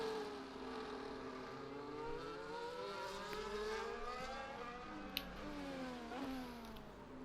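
Formula 1 racing cars, including a Williams with its DRS open, whine through a race in a video game set at Singapore, with steady rising and falling engine tones from several cars throughout.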